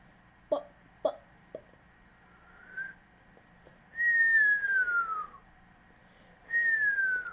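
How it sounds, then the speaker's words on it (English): A person whistling nearby: two quick sharp chirps, then a short note and two longer descending whistled tones separated by pauses, heard alone against quiet background hum. "look, I'm trying to whistle myself"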